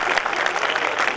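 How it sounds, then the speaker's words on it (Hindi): Audience at a Hindi poetry recital (kavi sammelan) bursting into applause, a dense close burst of clapping that runs the whole short moment without letting up. "एक बार तालियां बजा दो"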